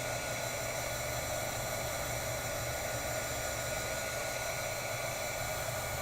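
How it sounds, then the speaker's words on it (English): A heat tool blows a steady, loud, unbroken rush of air while drying ink sprays on gesso, holding one even roar from start to finish with no talk. "I'm just going to hit this with some heat because the gesso loves to soak up the ink."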